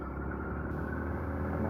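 Yamaha XTZ 125 motorcycle engine running steadily, a continuous low mid-pitched drone with even tone throughout, no talk over it.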